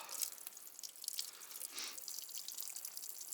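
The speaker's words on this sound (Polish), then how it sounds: "Leci zimna woda." Cold water runs quietly from a farm tap after a frozen hose, a soft, steady splashing hiss with a few small drips, no voices.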